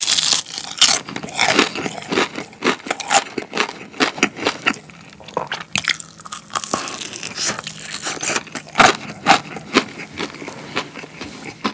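Close-up bites into crunchy fried chicken breast from Lotte Mart's 8,800-won whole chicken, with crisp batter giving loud, sharp crackling crunches in irregular bursts of chewing throughout.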